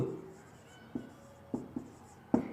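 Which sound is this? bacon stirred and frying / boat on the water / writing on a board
writing on a board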